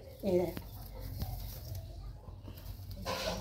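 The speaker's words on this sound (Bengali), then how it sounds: "আসে আসে মুরগি আসে" A hen clucks briefly a short way off, a few quick cackling notes near the start, then a quieter stretch of soft background noise before a burst of rustling at the end.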